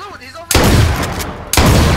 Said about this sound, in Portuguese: Can I shoot the door so we can break it?